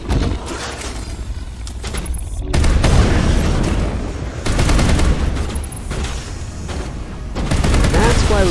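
High explosive rounds fire in a modded Mass Effect 1 battle, loud sustained bursts of booming gunfire with sharp detonations, several volleys separated by brief lulls, with in-game voices calling out beneath the shooting.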